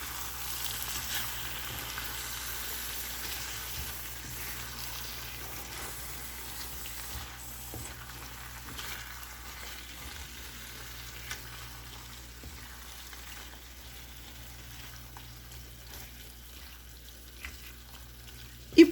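Chicken liver and vegetables simmer in a pan, giving a faint, steady sizzle with occasional soft stirring clicks and a small bump at the very end.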